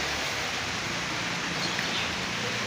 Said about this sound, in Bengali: এই দেখো বাইরে বৃষ্টি হইতে আছে হালকা হালকা বাতাস